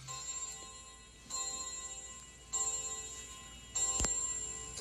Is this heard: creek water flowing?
no